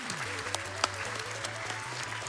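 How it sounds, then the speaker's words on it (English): Audience applause at a live speedrun charity event during a Mega Man Unlimited run, a fairly quiet, steady patter of clapping underneath retro game music with its looping bass line and sound effects. "Yeah, let's clap for that"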